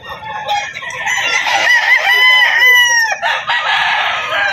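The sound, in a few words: gamefowl roosters crowing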